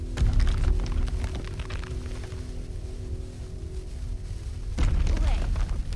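A fuse-lit blast in the video game Lost Words: Beyond the Page gives a deep, rumbling boom at the start and a second heavy burst near the end, with a softer rumble between them.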